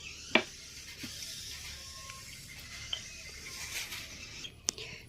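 Very hot oil in a wok, heated before onions, garlic and chilli go in for a dried fish dish, gives off a faint, steady sizzle with a few soft pops and clicks.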